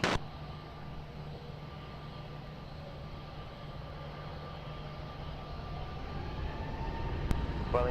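An airliner takes off on runway 20 at Lisbon Airport, a broad, distant engine roar that holds steady and slowly swells toward the end, with a sharp click near the close.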